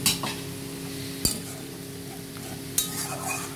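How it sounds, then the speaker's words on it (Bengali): Mustard gravy for hilsa fish tel jhal simmers and sizzles in a pan after water is poured in, a steady low hiss broken by two sharp clinks of a utensil against the pan. "জল দিয়ে দিলাম।"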